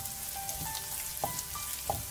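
Chopped ginger for veg chow mein sautés in a pan with a quiet, steady sizzle, broken by a few soft clinks and taps of utensils and a faint tonal hum underneath.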